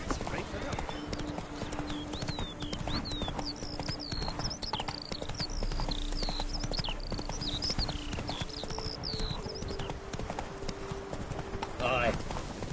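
Roach the horse gallops across the ground in The Witcher 3, a rapid, steady clip-clop of hooves heard up close over an ambient game backdrop, with a voice speaking briefly.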